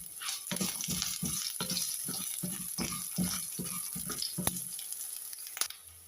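Curry leaves, ginger and garlic sizzling and spitting in hot oil for a papaya coconut milk curry, a steady close crackle with repeated stirring or scraping pulses and a couple of sharp clinks.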